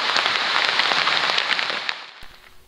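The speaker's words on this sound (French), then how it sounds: "Bon, déluge d'eau sur le TET." Heavy rain pours down on a trail during a Yamaha Ténéré 700 ride on the Trans Euro Trail, a dense, loud, steady hiss of drops that eases slightly near the end.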